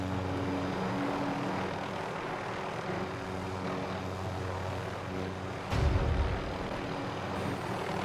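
A helicopter in the video game Call of Duty Warzone gives a steady, loud engine and rotor drone throughout, with a brief low thump near the end.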